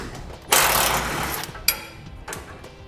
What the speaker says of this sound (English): we have this hanger bracket right here with a 13mm bolt. We'll remove the bolt.